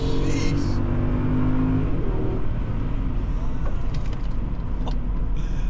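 A Mercedes ML63 AMG engine revs hard and rises in pitch, then settles into a loud, steady interior drone as the vehicle accelerates.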